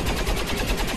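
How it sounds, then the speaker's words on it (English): Cannon fire in XCOM 2, heard as a dense one-second burst of rapid, loud, rhythmic shots with no talking. "So there we go, we got another cannon shot."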